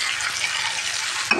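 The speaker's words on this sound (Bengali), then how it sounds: "পটলটা আমি এখন ঢেলে দিব।" Boiled pointed gourd goes into a frying pan of fried shrimp and onions, setting off a steady, close sizzle with a brief clatter of the pan near the end.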